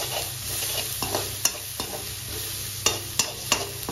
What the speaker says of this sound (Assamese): এইখিনি অকণমান সময় ভাজি লওঁ